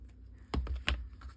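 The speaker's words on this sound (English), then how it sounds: "Maybe we'll use these scissors. Just take a little bit off the top." Scissors trim a little paper off the top of a junk journal spine, two quick crisp snips close by in a quiet room.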